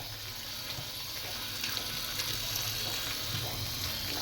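Falsa berries being washed under a running tap make a soft, steady rush and patter of water that continues without a break, faint and unaccompanied by speech.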